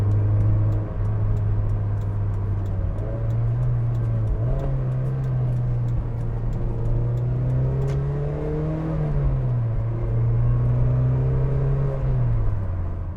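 A Mazda Miata NC revs up and eases off repeatedly while driving, its engine note climbing and falling in steady waves over a constant road rumble, close and loud with no talking.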